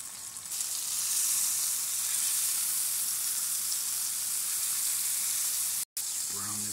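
Rice browning in butter in a pan, a steady broad sizzle that stays constant and fairly loud, broken by a brief dropout near the end.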